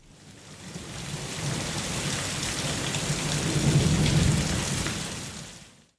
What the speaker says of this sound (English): As the rain hammers against the windows of the cafe